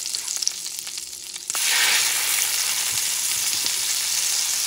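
Venison steak hits a hot pan and starts frying: after a quieter opening, a loud, steady, close sizzle with crackling pops fills the rest of the clip, with no talking.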